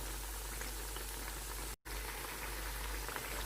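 Maggi noodle pakoras deep-frying in a pan of oil, giving a steady, dense crackling sizzle at moderate loudness that cuts out for a split second midway, with no talk.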